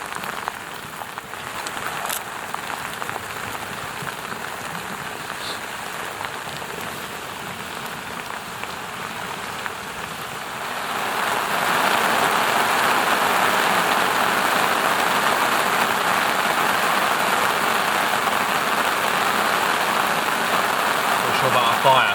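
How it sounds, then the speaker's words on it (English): Steady rain pattering on surfaces at a campsite in the Patagonian wilderness, a soft hiss that grows noticeably heavier and louder about halfway through and then stays constant, with no voices. "Bloody rain."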